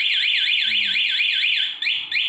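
Honda Scoopy i scooter alarm wailing loud and close, a steady rising-and-falling siren sweep that repeats about every quarter second, then breaks into a couple of separate chirps near the end.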